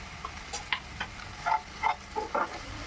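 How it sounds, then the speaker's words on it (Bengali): Spice paste with tomato, salt and turmeric fries in a pan and is stirred for a rohu posto dish. It comes through as faint, scattered pops and soft scraping in a quiet room. "ভালো করে মশলাটাকে আমি কষিয়ে নেব।"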